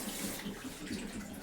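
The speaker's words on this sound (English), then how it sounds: "I get the hose, I put it in the bucket, and I just put a little bit of water" Water from a garden hose pours into a bucket, a continuous splashing gush at close range with no talking.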